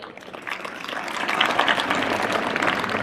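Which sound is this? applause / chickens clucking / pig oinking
applause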